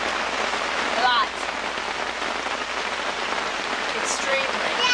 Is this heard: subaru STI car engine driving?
no